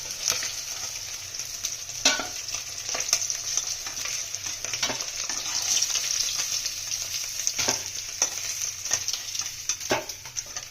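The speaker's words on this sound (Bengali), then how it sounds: "আমরা এই তেলেই রান্না করবো আলুগুলো একটু ভেজে নিচ্ছি" Potatoes frying in oil seasoned with turmeric and salt, a steady bright sizzle with occasional clacks of a spatula stirring, fairly close and without talk.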